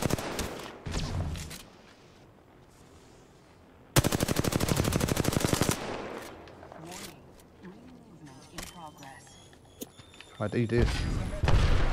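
Bursts of R-301 rifle fire in the Apex Legends shooter, including a loud, dense rapid-fire stretch, with other gunshots and effects scattered around and a player talking over parts of it.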